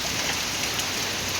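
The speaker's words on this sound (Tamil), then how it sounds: "இப்போ கூட மழை பாருங்கள் எவ்வளோ மழை அடிக்குது பாருங்கள்" Heavy rain pours steadily during Cyclone Fengal in a village, a dense unbroken hiss of water striking surfaces, loud and continuous with no voices.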